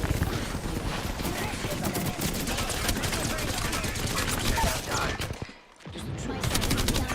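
A video game shooter fills the air with dense, continuous gunfire: rapid overlapping shots and bursts, loud and close, with a brief lull near the end before the firing resumes.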